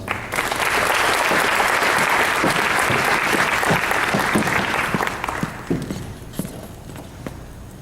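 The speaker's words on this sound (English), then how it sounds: "Give them one more round of applause." A crowd claps loudly and steadily at a high school senior awards ceremony, the applause thinning and fading out over the last couple of seconds.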